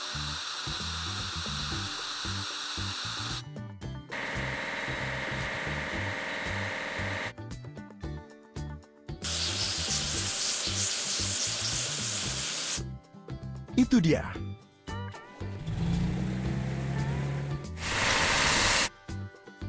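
Water sprays in bursts as a tractor cart is washed in a children's farm video game, with hissing spray segments broken by short pauses and cartoonish effect sounds. A voice speaks briefly.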